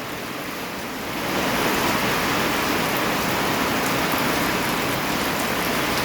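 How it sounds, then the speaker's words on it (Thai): Heavy rain pours down steadily, a dense broadband hiss that swells after the first second and stays loud and constant. "ฝนตกจักๆเลยนะครับฝนตกจักๆเลย"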